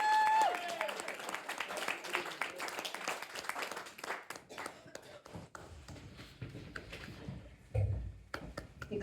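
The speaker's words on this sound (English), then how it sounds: "So get clapping." An audience at the Gate Inn in Awsworth applauds as a performer is welcomed onto the stage, with dense, steady clapping that thins out partway through, and a voice speaks over the fading applause.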